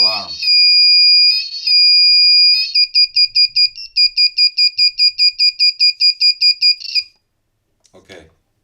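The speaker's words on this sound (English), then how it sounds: "making a simple beeping buzzer plus blinking LED" A simple beeping buzzer circuit with a blinking LED sounds loud, close high-pitched tones, first as long continuous bursts and then as a fast run of evenly spaced short beeps before it stops, followed by a brief faint noise.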